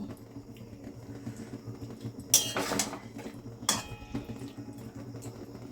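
A spoon knocks and scrapes in a pan of chilli paneer, two loud clattering bursts standing out from a quiet simmering background.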